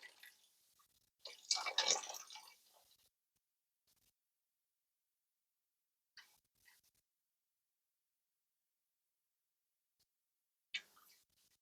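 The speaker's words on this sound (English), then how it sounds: "Now I'm going to add that shrimp shell stock that I made using the shrimp shells from my fresh shrimp." Shrimp shell stock is poured into a pot of seafood stew in one soft, brief splashing stream, followed by quiet with a few faint drips and clinks.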